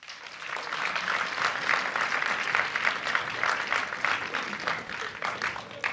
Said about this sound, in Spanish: Damos un fuerte aplauso a Beatriz Trueba.